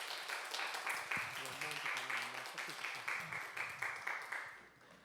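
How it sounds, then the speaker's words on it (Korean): A congregation claps steadily through a church worship service, with rhythmic, fairly even applause and a brief voice underneath that trails off at the end. "박수 부탁드리겠습니다."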